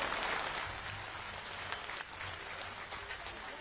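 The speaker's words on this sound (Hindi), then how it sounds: "तालियां उतनी देर बजनी चाहिए जितनी देर उनका स्वागत किया जाए।" Crowd applause at an outdoor Rajnath Singh election rally, a dense, even wash of clapping sustained throughout, moderately loud and steady without talk over it.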